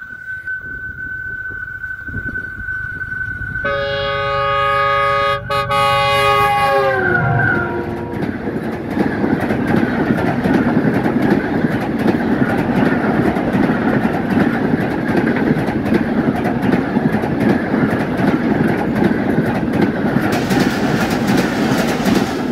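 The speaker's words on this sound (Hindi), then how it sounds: "सामने से आती हुई नज़र आ रही है 41 अप कराकरम एक्सप्रेस GU-40 के साथ, जो कि बहुत अच्छी रफ्तार में लग रही है।" The 41 Up Karakoram Express, hauled by a GU-40 locomotive, approaches Badal Nala railway station at speed. A loud horn blast gives way to a heavy, sustained rumble and clatter of wagons passing close by.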